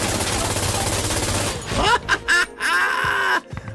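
Rapid burst fire in the tactical shooter Insurgency Sandstorm rattles loud and dense for about a second and a half, then breaks into a few short separate bursts and clatter before fading.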